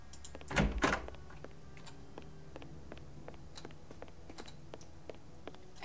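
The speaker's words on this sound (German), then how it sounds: "Mach die Tür nochmal auf, bitte." A door opening in an old Sherlock Holmes adventure video game, heard as a loud burst of creaking and thudding near the start, followed by sparse faint ticks and clicks.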